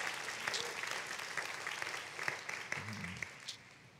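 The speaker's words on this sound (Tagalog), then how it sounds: "purihin natin ang Panginoon sa pagitan ng palakpak" A church congregation breaks into steady applause in praise, a broad, fairly distant wash of many hands clapping with a few sharper claps and faint voices mixed in.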